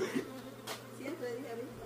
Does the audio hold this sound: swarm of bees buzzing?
yes